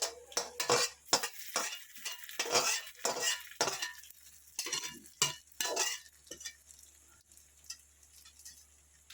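Spoon scraping and clinking in a pan while pepper chicken with browned coconut and curry leaves is stirred, a run of sharp irregular strokes over a faint sizzle, close and fairly loud, no voices.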